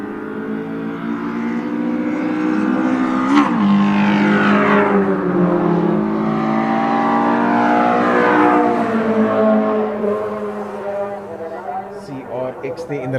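Honda CRX and a second car on a quarter-mile drag strip, engines revving and rising in pitch through the gears, loud and sustained with a sharp burst near the start, under an announcer's commentary throughout.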